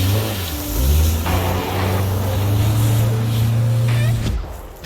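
Go-kart engine on a rough dirt track: a loud, close motor drone that shifts pitch as it revs up and settles, running steadily before cutting off near the end.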